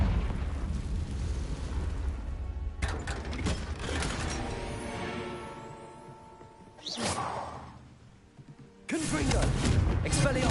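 Blasts of the Confringo fire spell in Hogwarts Legacy, loud booming explosions with rumbling tails, one erupting near the start, another mid-way and a final burst near the end, amid game effects.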